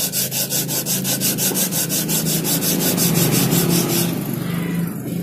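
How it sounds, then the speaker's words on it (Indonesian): Sandpaper rubbing against wood in quick back-and-forth strokes, close and scratchy, settling into a steadier grinding rasp toward the end. "Oke, kita amplas saja ini."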